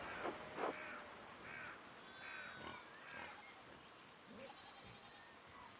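Faint sheep bleat several times at scattered intervals in Pentiment, soft and somewhat distant over a quiet ambient background.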